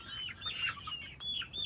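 Young chickens cluck and chirp in the coop where they roost at night, with several short close calls coming in quick bursts.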